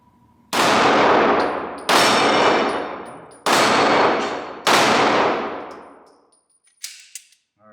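Four loud H&K VP9 pistol shots ring out at a slow, uneven pace, each a sharp blast with a long decaying metallic ring from steel flapper targets, followed by a couple of fainter clanks.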